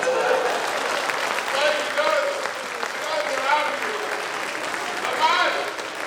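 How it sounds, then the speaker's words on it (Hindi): An audience at a Hindi poetry recital claps steadily and densely for several seconds while a performer keeps talking over the applause. "पर तालियां आप लोग मिलकर ही बजा रहे।"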